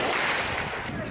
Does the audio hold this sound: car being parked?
no